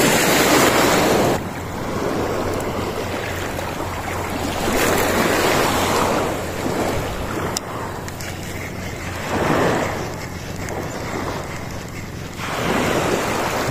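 Sea waves at low tide wash in steady surging swells mixed with wind buffeting the microphone, heard alone with no talk.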